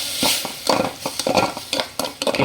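Tomato and onion are stirred in a sizzling pan for ginisang ampalaya, with quick scraping and clattering of the utensil against the pan over a steady frying hiss, close and fairly loud.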